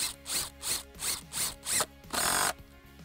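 An impact driver driving lag screws without pre-drilling, hammering in rapid bursts, five short pulses followed by a longer sustained run, close up and loud with no talking.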